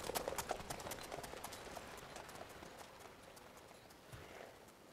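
Horse hooves clip-clop at a steady trotting rhythm in The Witcher 3: Blood and Wine, fairly close and even-paced under a soft ambient wash, with no talk.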